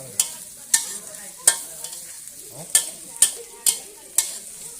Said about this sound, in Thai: ผัดใส่เกลือให้มันนัว